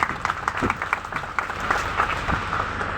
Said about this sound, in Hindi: सभी तालियां बजाइए।